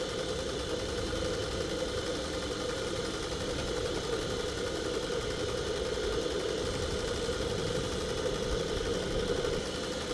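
A Monahan Heron model steam engine built for a boat runs steadily with a fast, even mechanical chatter and a rapid rhythmic beat, close and continuous, with no talking.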